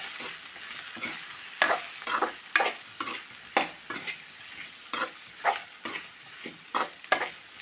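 Drumstick thoran being stirred in a pan, with rhythmic scraping strokes of a spoon repeating about once per second over a soft, steady sizzle, no voices.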